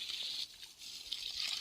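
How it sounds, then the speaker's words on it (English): Rusty, chlorine-treated well water drains from a home water system in a steady hissing rush, fairly faint and continuous, with a brief dip before it resumes, no voices. "draining the water until you change the color and smell change."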